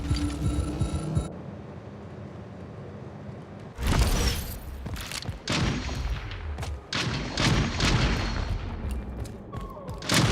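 Rapid bursts of video game gunfire crack out loud and close, with repeated sharp shots over a low rumble after a quieter opening, ending in a headshot kill.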